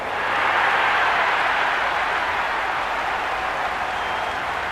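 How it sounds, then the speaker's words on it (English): A crowd at a women's cricket match in the stadium for Mumbai Indians versus UP Warriorz, a steady, broad roar of cheering and applause that holds loud and unbroken throughout, with no individual voices standing out. "The crowd are really getting quite raucous."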